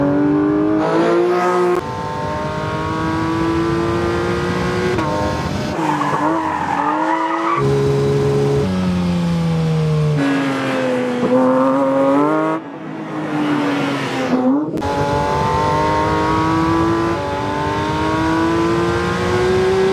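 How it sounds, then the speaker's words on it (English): A 2025 Porsche 911 GT3's high-revving, naturally aspirated engine screams up and down through the gears, sharp shifts breaking the wailing pitch, loud and close throughout. "A high-revving, naturally aspirated engine"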